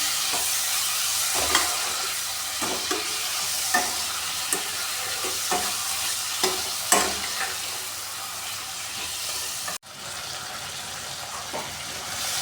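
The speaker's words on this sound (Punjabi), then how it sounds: "ਆਪਾਂ ਦੇ ਵਿੱਚ ਪਾਵਾਂਗੇ ਦੋ ਕੱਟੇ ਲਾਲ ਟਮਾਟਰ ਤੇ ਹਰੀਆਂ ਮਿਰਚਾਂ ਇਹਨਾਂ ਨੂੰ ਵੀ ਤੱਕੇ ਵਿੱਚ ਚੰਗੀ ਤਰ੍ਹਾਂ ਭੁੰਨ ਲੈਣੇ" Chopped red tomatoes and green chillies roast in hot oil for a tadka, a steady sizzle with repeated sharp scrapes and clacks of a spoon stirring the pan, ending in a brief cut and a softer fry.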